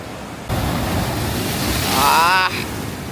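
Sea waves wash in and break steadily at a rocky beach in Vizag, a broad continuous rush with wind buffeting the microphone and a brief higher tonal whine near the end.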